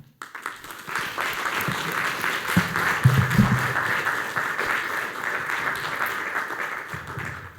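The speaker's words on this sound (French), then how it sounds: "Je pense qu'ils méritent des applaudissements" Symposium attendees applaud the specialists, steady even clapping from a seated audience that rises quickly and carries on at moderate loudness, with a few low thumps partway through.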